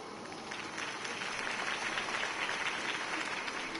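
Crowd applause after a campaign speech in the Telltale Batman video game: a dense, even patter of many hands clapping at moderate volume, sustained for a few seconds with no voices.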